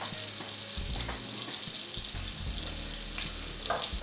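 Chicken pieces sizzle in a frying pan and get turned over, a soft steady frying hiss with a few faint clatters as the pieces are moved.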